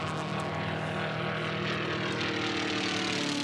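Formula One class propeller race planes fly at the Reno Air Races in 2018, their engines making a loud, continuous, buzzing drone that fills the whole moment with no break.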